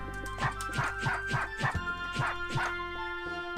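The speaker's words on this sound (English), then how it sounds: "her dashes are the dog barking at her and her getting scared" A cartoonish dog yapping in a fighting video game, Them's Fighting Herds, a quick run of about eight sharp barks in rhythm over continuous game music.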